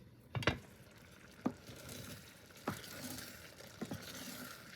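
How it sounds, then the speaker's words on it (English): A spoon stirring rice in a pot, with a few soft scraping knocks against the pot at roughly one-second intervals over a faint steady background hiss, heard close and quiet. "Just stirring as we're talking, just to make sure everything is coming together and that nothing is sticking to the bottom"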